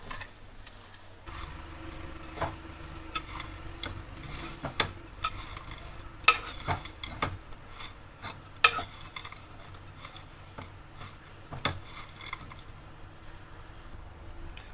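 Fried dry fruits, raisins and ground powder for laddu being mixed together in a pan, with soft repeated scraping and clinking of a spoon and a faint sizzle, close and fairly quiet, no voices.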